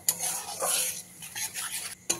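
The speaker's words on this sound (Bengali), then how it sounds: "বেসনটাকেও খুব ভালো করে ভাজা ভাজা করে নিতে হবে" Gram flour (besan) fried in oil with a dry red chili and whole cumin is stirred and scraped in a pan, giving close, uneven scratchy bursts with a soft sizzle underneath.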